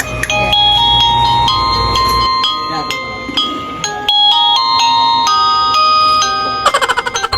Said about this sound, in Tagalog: Samahan nyo naman ako ngayong mag-breakdown ng dahil sa doorbell na binili nila mama.